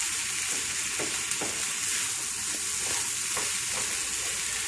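Southwest-style stuffed pepper filling without rice sizzles loudly and steadily in a pan while a spatula stirs it in a few soft scrapes and taps close by. No voices are heard.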